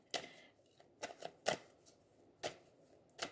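Tarot cards being shuffled and drawn, a series of soft, crisp riffling bursts in irregular rhythm, close and fairly quiet, with no voices.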